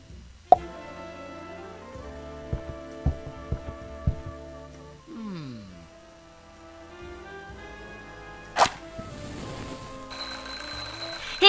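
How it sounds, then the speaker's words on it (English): A smoke detector alarm sounds in The Journey Down adventure video game. A high, steady electronic tone starts near the end over quiet game music and scattered clicks. "just testing the smoke detector"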